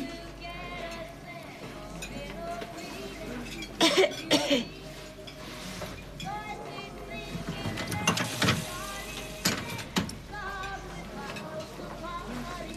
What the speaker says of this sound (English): Seem to have a cough.